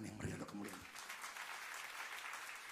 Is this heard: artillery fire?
no